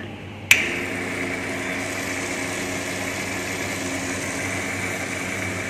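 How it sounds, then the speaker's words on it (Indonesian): A laboratory stirrer motor on a series mixing tank rig switches on at speed 7 with a sharp click, then settles into a steady, continuous motor whine and hum. "Stirrer kita set pada kecepatan 7. Kemudian kita nyalakan stirrer."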